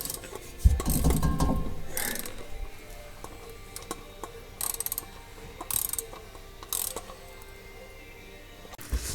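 A ratchet tightening the clamp on an aftermarket muffler fitted without welding, heard as several separate short bursts of close clicking, with quieter pauses in between.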